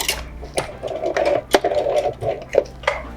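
A sewing machine running in short bursts as it stitches the edge of a fabric mask, a rapid mechanical chatter with clicks and brief pauses, close and clear with no talk.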